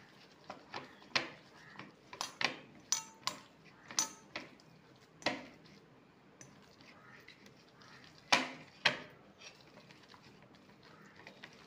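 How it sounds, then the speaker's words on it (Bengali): Lentil and prawn batter beaten by hand in a bowl, producing quiet, irregular taps and clicks that come in uneven bursts with short pauses, close by and without talk. "ভালো করে এগুলোকে ফেটিয়ে নিতে হবে।"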